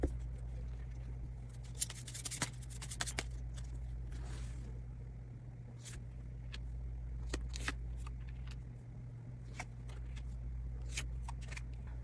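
Tarot cards shuffled at a reading table, a steady papery riffling texture with brief sharp snaps and flicks scattered throughout, close and fairly quiet over a constant low hum, with no talking.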